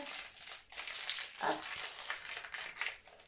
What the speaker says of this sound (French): Alors, je le déballe.